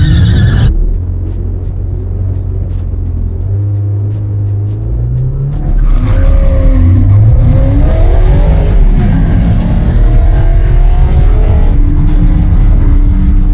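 Drag racing cars launch hard in a loud, close, sustained engine roar, with the rpm bouncing against the rev limiter and tires slipping, and the pitch rising and wavering over the whole run.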